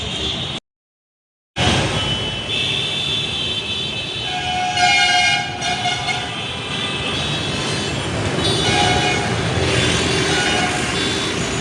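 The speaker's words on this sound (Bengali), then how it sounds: "তো দেখুন বাইরে হাওড়া স্টেশনের কিছুটা মুহূর্ত" Trains move through Howrah railway station, with a loud, continuous rumble of rolling stock and clanking, passing horn-like tones, and a brief dropout near the start.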